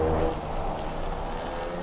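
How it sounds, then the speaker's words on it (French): Steady rain in a racing video game at the Hungaroring during a night race, a dense continuous hiss and patter filling the short stretch at even loudness with no voices. "Là ils dégustent avec la pluie."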